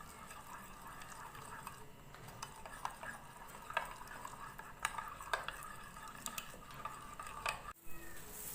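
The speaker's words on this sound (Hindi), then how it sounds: "अब मैं इन तमाम मसालों को दही के साथ मिक्स करने लगी हूँ।" Spices such as coriander powder are stirred into yogurt in a bowl for a chicken marinade, giving a faint, steady scraping and swishing with small clinks, quiet and continuous with no talk.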